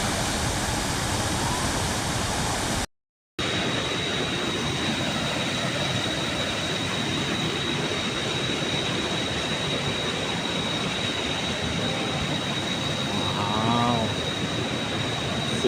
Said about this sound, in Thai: นี่คือน้ำตกชั้นที่เจ็ดนะครับ